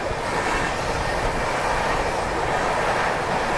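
From aboard the Hazrat Nizamuddin–Mumbai CSMT Rajdhani Express 22222 running through Lalitpur junction, a steady loud rumble and roar of the moving train carries on without a break, no voices.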